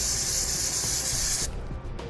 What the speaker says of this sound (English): we can take some brake parts cleaner, spray it on a towel,